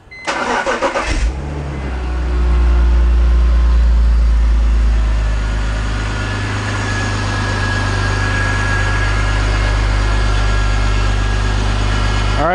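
BMW E46 3-Series engine cranking and catching, then settling into a steady, loud, rumbling idle as it warms up, running alone with no talk.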